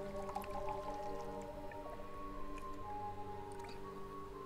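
Water dripping in the horror video game Desolate, small drops landing over a steady tonal game soundscape, faint and intermittent throughout.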